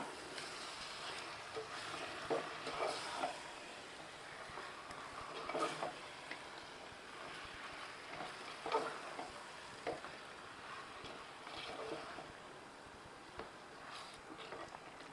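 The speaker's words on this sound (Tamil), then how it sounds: "அரை கிலோ சிக்கன் நம்ம கழுவி வச்சுருக்கோம் அதை நம்ம சேர்த்துடலாம் நல்லா கலந்து விட்டுக்கலாம்" Half a kilo of washed chicken being stirred into masala in a pan, with a steady soft scraping and faint sizzle running throughout and occasional louder spoon strokes.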